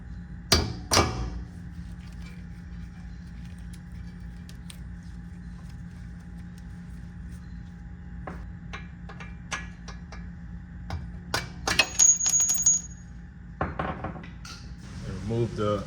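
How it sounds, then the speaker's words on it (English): Hammer strikes knocking a lower control arm loose on a 2015 Chevy Sonic during suspension repair, a couple of sharp metallic blows at first, then a quick cluster of clanks later, close and fairly loud with quiet gaps between. "We're gonna go ahead and hammer this out"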